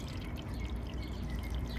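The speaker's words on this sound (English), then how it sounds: "and you pour water in it, like so" Water is poured into a seed-starting cell tray, giving a steady, soft trickling and splashing that runs continuously and fairly quietly throughout.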